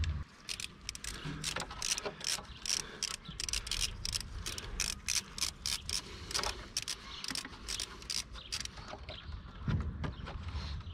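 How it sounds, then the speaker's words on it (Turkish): A socket ratchet turning to open the oil filter cap on a Yamaha Xmax scooter during an oil change: a rapid, steady run of close metallic clicks with short pauses, fairly quiet, with no voices. "Şimdi öncelikle 12 numaralı lokma ucuyla yağ filtresinin kafasını açalım"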